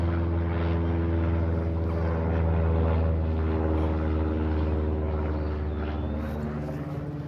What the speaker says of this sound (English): Got another plane overhead, so I hope you can still hear me.